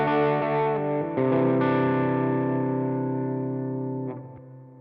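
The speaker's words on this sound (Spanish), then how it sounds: "el pedal de distorsión." Electric guitar through a distortion pedal on a Line 6 Helix, sustained overdriven chords with a thick, gritty tone, a quick re-strike near the start, then long ringing notes that slowly decay.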